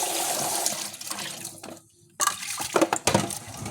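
A tap runs strongly, a loud steady gush of water that cuts out briefly and then resumes with splashing and clatter.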